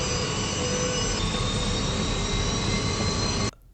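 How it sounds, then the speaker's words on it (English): Spaceship engines roaring in the 1977 Star Wars film A New Hope, a loud, sustained high-pitched whine over a dense rumbling roar that holds steady before stopping abruptly. "And like the sound of the engines"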